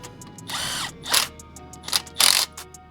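Impact gun tightening a ball joint nut on an FL5 Civic Type R, several short close rattling bursts, the last ones longest and loudest, separated by quiet gaps.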